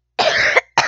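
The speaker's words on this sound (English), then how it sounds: "I shouldn't have just coughed all up in your face" A single sharp cough from a person at a toddlers-and-babies get-together, loud and close, followed by the start of another cough burst, with no talk.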